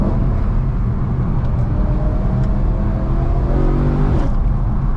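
Cabin sound of a modified 2010 BMW E92 M3 on the move, a steady engine drone with faint pitch changes and a brief rise near the end, close and continuous.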